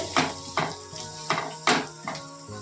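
A spoon scrapes and clinks against a pan while cumin, coriander and chilli powder are stirred in, giving five or six sharp, evenly spaced strokes close by with no talking.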